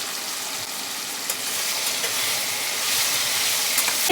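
Karonda and boiled green chillies frying in a garlic tempering, a steady loud sizzle and crackle that swells slightly, with no talking.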